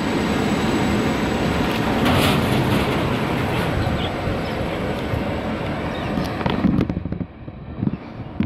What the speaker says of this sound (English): That is Endeavour N8. Endeavour 8 now departing.